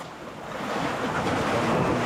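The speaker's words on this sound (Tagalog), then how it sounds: "Huwag lang muna lumakas ang alon at mababasa." Steady ocean surf washing in, a continuous broadband roar that swells slightly louder, with some wind buffeting the microphone.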